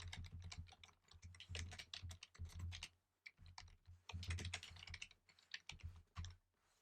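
Rapid typing on a computer keyboard, close and clear, in uneven bursts of clicking keystrokes with short pauses, while code is being written.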